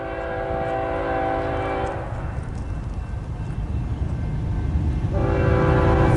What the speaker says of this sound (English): It looks like we have a westbound Z train about to pass by.